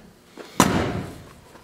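A car door on an old Mercedes-Benz C240 slams shut once with a single heavy, close thud that rings out briefly.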